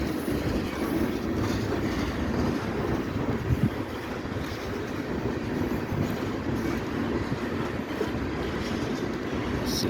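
A Norfolk Southern freight train rolling past on the Delair Bridge, a steady rumbling roar of railcars with faint rhythmic clatter of wheels, continuous and moderately distant.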